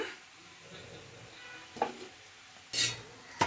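Grated coconut being stirred into cooked pumpkin palya in a pan, soft low scraping and rubbing with a few sharp spoon-against-pan clinks near the end.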